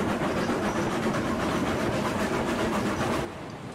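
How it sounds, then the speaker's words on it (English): A train rolls along rails in the Railroads Online video game, giving a steady rumbling clatter at low speed that fades slightly near the end. "A bit more volume for the train while we're not going too fast."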